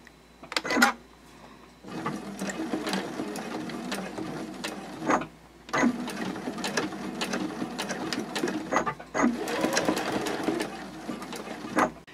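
A sewing machine bastes a D-ring tab onto a card slot pocket of a fabric card clutch, running in several short stitching bursts separated by brief pauses, close and clear with no talk.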